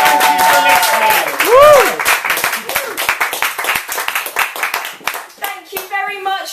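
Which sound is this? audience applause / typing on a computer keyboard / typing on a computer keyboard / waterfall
audience applause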